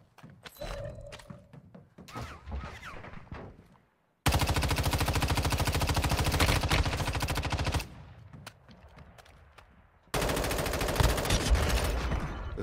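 Automatic gunfire in the mobile shooter game Warzone Mobile, two long sustained bursts of rapid rifle fire, loud and close, separated by quieter game sounds and thuds.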